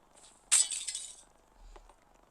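Glass shatters in the Hello Neighbor video game, a single sharp crash with a tinkling tail of falling shards, followed by a faint thud; no talking.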